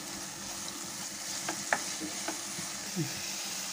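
Carrot halwa with ghee is stirred in a pan, its gentle sizzle running under a few distinct scrapes and taps of the spoon.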